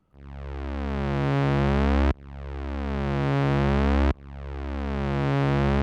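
A sustained Sonic Pi synth note swells over four beats from silence to full volume, cutting off and repeating three times in a steady cycle, with no talking.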